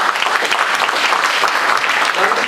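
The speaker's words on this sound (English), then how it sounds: "Come, give a applause." Steady, dense applause from a forum audience fills the hall at an even, fairly loud level, with no pauses and no voices standing out.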